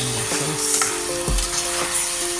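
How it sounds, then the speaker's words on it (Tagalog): Chicken breast strips sauté in a hot pan for a Bicol Express, giving a close, steady sizzle with a few clattering stirs and one dull thud. "Igisa lang po natin ang ating chicken until mag-iba yung kulay niya"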